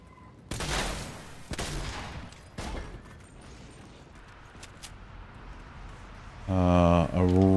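Several booming blasts from a heavy shotgun in a video game, spaced a second or so apart and echoing. A low buzzing mechanical hum closes the stretch.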